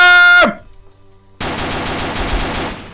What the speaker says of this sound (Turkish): Allah aşkına şu silah efekt şu ne?